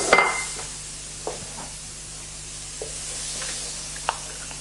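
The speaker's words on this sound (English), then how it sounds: "You get a beautiful sizzle." Beans tossed into a hot pan sizzle with a steady, soft frying hiss, and a few light clinks of stirring break through now and then. No one speaks.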